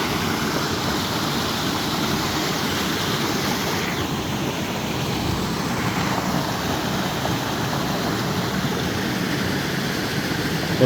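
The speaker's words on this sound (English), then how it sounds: "And here's our little waterfall." Small woodland waterfall near Henderson Lake, a steady rushing splash of falling water heard close and continuous.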